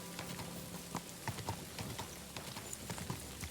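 Video game horse hooves in Kingdom Come: Deliverance 2: quick, uneven clip-clop of trotting, with soft patter and scattered ticks in the background, steady and fairly quiet.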